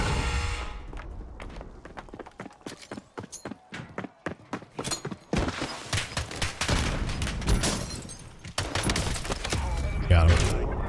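Gunfire in Call of Duty: Warzone, a rapid run of sharp shots in the first half that thickens into dense, continuous battle noise, loud and close, with voices over it.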